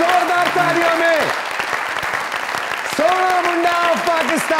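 An audience bursts into loud, sustained applause at a stage show honouring an actor, dense clapping filling the whole stretch while a presenter talks over it with music.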